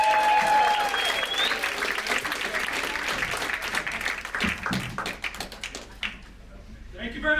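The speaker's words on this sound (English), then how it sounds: "Keep it clapping for Clay. Let's clap for him. Keep clapping." Comedy club audience applause, a dense burst of clapping and cheering that swells then thins out over several seconds, loud and close, with voices calling out and a speaker beginning to talk as it fades.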